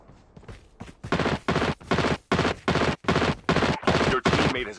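Gunfire in the Call of Duty video game during a multiplayer match, loud repeated bursts of automatic fire in a steady rhythm of about ten close, dense volleys with brief gaps between them.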